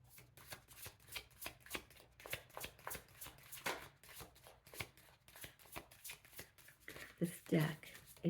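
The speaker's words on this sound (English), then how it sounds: "It's a Mythic Tarot, the vintage version, and it likes to be shuffled in a specific way." A vintage Mythic Tarot deck is shuffled by hand in a quick run of soft riffling card bursts, fairly close and quiet, with a brief voice near the end.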